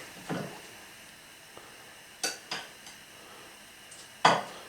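Dishes being washed in a home kitchen: a few sharp clinks and clatters of pots, plates and cutlery spaced across a quiet background.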